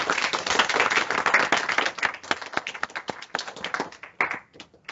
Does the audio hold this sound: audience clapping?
yes